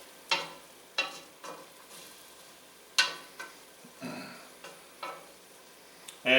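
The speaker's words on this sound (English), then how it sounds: "sizzling up real well." Chopped onions sizzle in a pot as the base for lobster bisque, with soft frying hiss broken by several sharp stirring scrapes and clatters, close and fairly quiet, with no talking.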